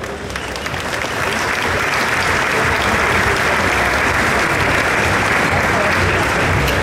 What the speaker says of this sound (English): So a big applause and bienvenido, Paul Espargaro.